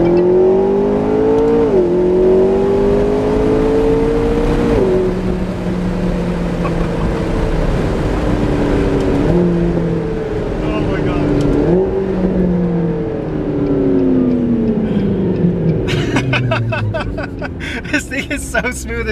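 A McLaren 650S pulls hard through the gears, its engine rising in pitch repeatedly with clear shift drops between pulls, loud and sustained from inside the cabin, with occasional voices underneath.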